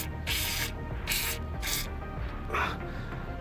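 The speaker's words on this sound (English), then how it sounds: "let's go ahead and spray a little more penetrating oil on here." Penetrating oil sprayed from an aerosol can onto a rusted bolt in four short hissing bursts, each under a second, close to the mic with brief pauses between.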